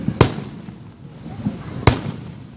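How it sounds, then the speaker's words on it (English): Two sharp, loud July 4th firework bangs burst about a second and a half apart, each followed by a short crackling tail, with a faint murmur of people in between. "The fireworks lagged."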